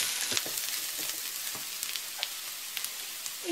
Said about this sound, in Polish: A papryka, jeśli jest przesmażona, ma lepszy aromat.